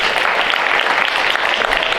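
A comedy club audience claps in response to a stand-up comedian, a continuous dense wash of many hands at a steady level throughout, with no talking over it.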